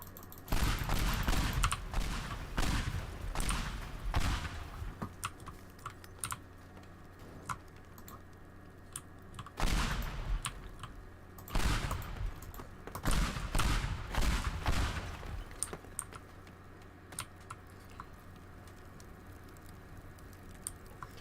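Blocky physics destruction in the game Teardown: bursts of crashing, crackling debris and explosive rattles come in clusters separated by quieter gaps, fairly faint overall.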